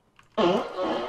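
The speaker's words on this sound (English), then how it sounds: "Was that a fucking fart?" A sudden, fairly loud fart bursts out during a gaming livestream, a raspy, buzzing blast that drags on for most of a second against faint background noise.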